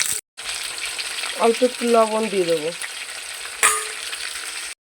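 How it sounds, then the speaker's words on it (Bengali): Pointed gourd (potol) pieces fry in oil with a steady, close crackling sizzle, while someone talks briefly over the cooking partway through. "এবার পটলটা ভেজে নেব।"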